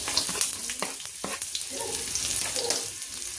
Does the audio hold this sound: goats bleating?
no